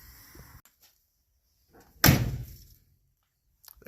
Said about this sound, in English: You did have to really rear back and slam it, but it's getting better.